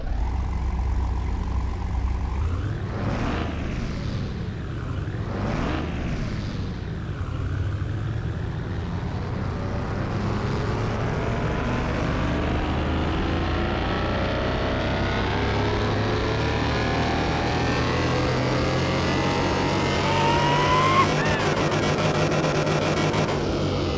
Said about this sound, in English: Let's go ahead and start this dyno test.